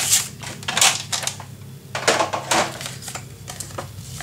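Scissors cut a piece of paper off for a pocket in a shabby chic pink mini album. The snips come as several crisp, close bursts at an uneven pace, with paper rustling between them.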